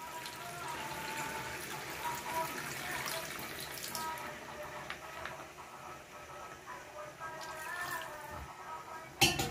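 Water is poured into a pan of masala-coated quail in a home kitchen, a soft, steady splashing and trickle heard faintly against low background noise.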